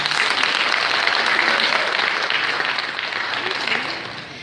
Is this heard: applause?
yes